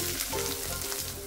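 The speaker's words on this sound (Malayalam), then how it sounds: "കടുക് പൊട്ടിക്കഴിഞ്ഞ സമയത്ത് ഇതിലേക്ക് മീഡിയം സൈസ് ഒരു സബോള ചെറുതായി നുറുക്കിത് ചേർത്ത് കൊടുക്കാം." Chopped onion frying with spluttering mustard seeds in coconut oil, a dense steady sizzle close up with faint crackles and no voices.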